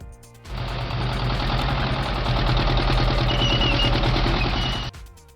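A tank's heavy engine rumbles steadily with a rapid knocking, clattering pulse, loud and close for about four seconds before cutting off abruptly.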